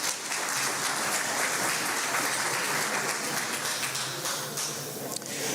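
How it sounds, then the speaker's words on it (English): An audience at a candidate debate applauds in a dense, steady wash of many hands clapping, sustained for several seconds before easing slightly at the end. "Give them a big round of applause."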